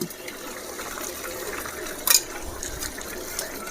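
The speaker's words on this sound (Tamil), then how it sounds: "இந்த நெய் ஊற்றுறப்போ அவ்வளோ ஃப்ளேவராக இருக்கும்" Melted ghee poured into a pot of mutton nalli biryani makes a quiet, steady liquid trickle over low kitchen background noise, with one brief sharp clink partway through.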